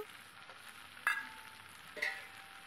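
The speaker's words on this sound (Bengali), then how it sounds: "এবার আর একটু নেড়ে নেব।" Fish curry with amodi fish frying in a pan, a faint steady sizzle with two sharp clinks of a spoon against the pan about a second apart, no voices.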